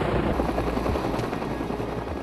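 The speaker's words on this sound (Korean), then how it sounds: "바로 헬기에 달린 블레이드 때문에 헬기가 가만히 있지 못하고 요동치기 때문이다" A Cobra attack helicopter hovers close by, its rotor blades producing a loud, dense, steady roar and throb that fills the whole stretch, with no voices.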